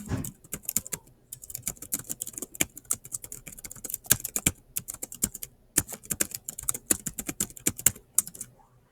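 Fingers type a quiz question on a computer keyboard in quick bursts of crisp, close key clicks, separated by short pauses, with no voices.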